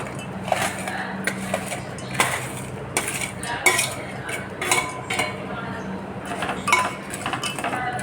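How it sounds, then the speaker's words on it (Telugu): A spoon stirs jaggery into cooked moong dal in a metal pot, giving repeated close clinks and scrapes against the vessel at an irregular rhythm, with little else around. "బెల్లం వేసుకొని ఒకసారి కలుపుకోవాలి"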